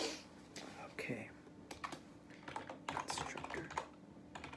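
Computer keyboard typing while writing Java code, a quiet, irregular patter of key clicks with short bursts and pauses, close and alone with no talking.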